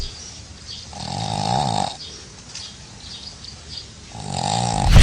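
A dog snores loudly and close by, two drawn-out rasping breaths about three seconds apart with quiet gaps between them and a snuffle right at the end.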